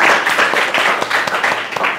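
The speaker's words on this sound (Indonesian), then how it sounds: "kasih tepuk tangan untuk Sakila dan Rafid" Classmates clap for two students, Sakila and Rafid, after their group presentation in a classroom, a brief close burst of quick, uneven hand claps.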